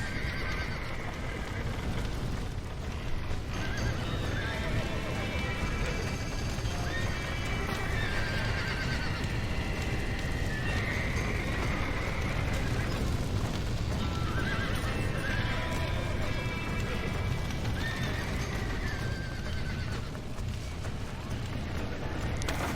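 Horses gallop and whinny in Red Dead Redemption, with a dense, steady clatter of hooves under repeated neighs against a busy background of game ambience that continues throughout.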